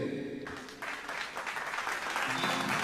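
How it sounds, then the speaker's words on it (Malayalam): Audience at a live Malayalam stage show breaks into sustained applause, a dense, steady crowd clatter that starts after a brief tonal opening and carries on to the end. "ക്ഷമിച്ച് പൊരുത്തപ്പെട്ട് നല്ല കയ്യടി തരില്ലേ"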